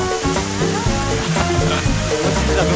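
Water cascades down the tiered Cheungcheung Falls in the Yeongnam Alps mountains, a loud, continuous rushing and splashing roar close by.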